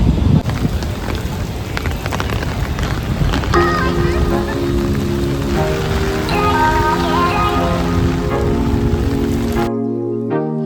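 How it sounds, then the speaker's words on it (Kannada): Heavy monsoon rain roars steadily at Jog Falls, Karnataka, and partway through a sustained tonal hum joins it before the sound cuts off abruptly near the end. "ಜೋರಾಗಿ ಮಳೆ ಬರ್ತಾ ಇದೆ"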